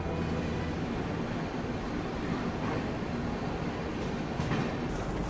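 Train rolling into Bhatni Junction railway station in India in the early evening, a steady loud rumble of wheels and carriages that carries on throughout with no talk.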